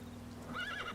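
A horse mount whinnies in the Secret World Legends video game as it jumps, one short, high, rising-and-falling neigh heard alone over a low steady hum.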